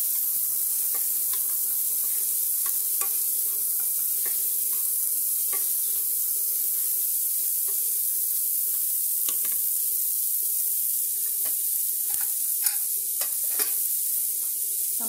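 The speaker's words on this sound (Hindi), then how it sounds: "इन सबको हल्का सा भुनाएंगे।" Beetroot, green chilli, amla, mint leaves and a little cauliflower lightly roasting in a pan, giving a steady, loud sizzle throughout with scattered crackles and scraping stirs.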